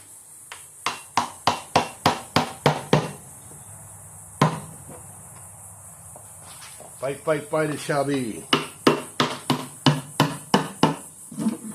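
A hammer pounds on an unworked engine: two rapid bursts of about nine sharp, loud metallic blows each, separated by a single isolated strike and a stretch where someone speaks over a low background hum.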